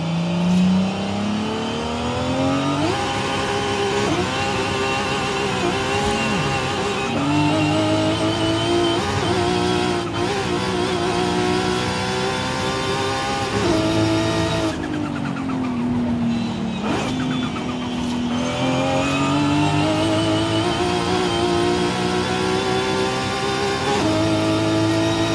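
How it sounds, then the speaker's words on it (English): A widebody Mk4 Toyota Supra engine in Forza Horizon 5 drones steadily inside the car with a rising, high-pitched gearbox whine, revs climbing and dipping through gear changes, loud and continuous with no talking. "The gearbox whine and just the amount of sounds going on is crazy"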